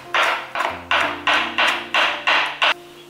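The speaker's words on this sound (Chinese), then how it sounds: "先把姜切片，再切丝。 切成姜末" A knife chops ginger on a cutting board, seven firm, evenly spaced thumps that ring a little, close and loud with no voices, with a faint steady hum behind them.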